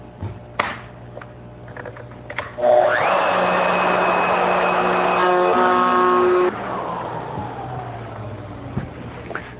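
A router fitted with a bearing-guided bit hollows out a wooden bowl blank, starting with a loud sustained whine for several seconds that spins down afterward, with clicks and handling knocks before and after.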